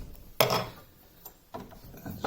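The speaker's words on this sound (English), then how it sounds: "rotate it in the vise so I can file the other two sides" A wooden part of a balancing toy being filed while clamped in a vise, with two rough rasping strokes close by, separated by a quieter pause and lighter scraping.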